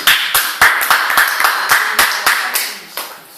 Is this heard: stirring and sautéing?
no